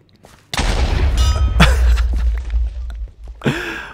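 A Creeper explodes in Minecraft with a sudden loud blast and rumbling boom that holds for a couple of seconds before dying away, with a short burst of noise following.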